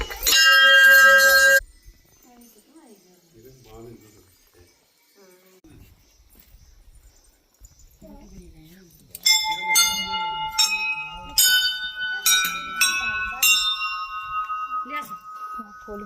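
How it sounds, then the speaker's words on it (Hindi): Offering bells hanging at the Ghantakarn Devta temple ring out, first in a loud burst, then after a lull in a series of bright, overlapping clangs close by, with faint voices between. "ये घंटाकरण देवता की घंटियाँ पड़ी हैं यहाँ बहुत सारी चढ़ावे के लिए"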